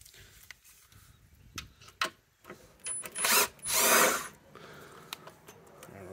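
A power drill backs out the turn signal bolts on a Suzuki Boulevard C50 motorcycle, giving short whirring bursts, then two longer loud runs close by, with soft handling clicks in between.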